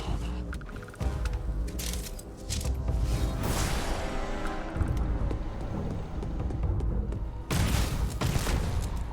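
Starfield gunfire during a firefight: a dense, continuous wash of shots and booming impacts that swells and holds loud for several seconds, then drops briefly before another heavy burst near the end.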